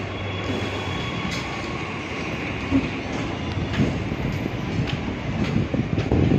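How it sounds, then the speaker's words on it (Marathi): A Mumbai local train rumbles through Virar station's wet platform toward Churchgate, a continuous low roar with occasional metallic clicks and squeals, moderately loud and steady throughout. "ही बघा ट्रेन चाली है चालली आहे"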